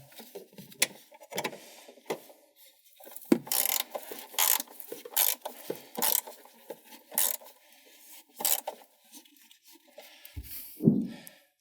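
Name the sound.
socket wrench ratcheting to tighten 13 mm battery bolt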